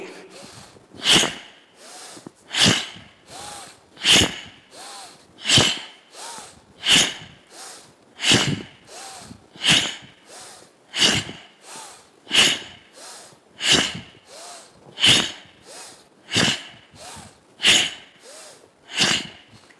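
Deep yogic breaths during a traditional yoga session, each slow inhale and exhale sounding as a regular rhythmic rush about every one and a half seconds, close and clear, repeating steadily throughout.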